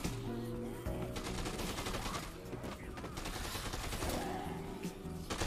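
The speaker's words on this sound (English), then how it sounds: "where are you guys shooting from?" Gunfire in Dead Rising 2: Off The Record, rapid dense bursts of automatic shots layered with game music and effects, continuous and loud.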